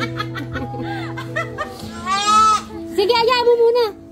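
Goats bleating close by on a farm, several long wavering calls rising over a steady background, with people laughing and chattering around them.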